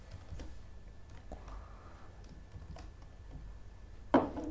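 Python code being typed on a computer keyboard during a Class 11 Informatics Practices lesson, a steady run of soft, close key clicks with one louder tap near the end and no talk.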